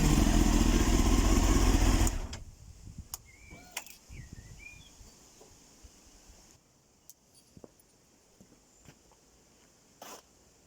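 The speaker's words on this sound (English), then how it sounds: "seems to idle well, revs up fine." A Honda CBR 929 RR Fireblade track bike roars loudly for the first two seconds and then drops to a quiet idle. Soft clicks and knocks continue close by after it settles.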